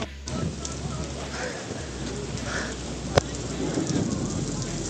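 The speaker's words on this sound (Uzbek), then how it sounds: "Yomg'ir yog'yapti." Steady heavy rain pours on the Great Wall of China during a storm, a dense continuous hiss with a sharp crack of thunder partway through, close and loud.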